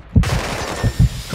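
Gunfire from a search-and-destroy match in a video game: a few quick loud bursts of shots with low thumping impacts, close and punchy over a steady background.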